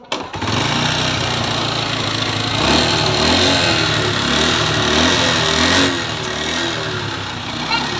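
Motorcycle engine with worn piston rings starts and runs steadily, a loud close continuous mechanical drone with slight rises in revs, no talk over it.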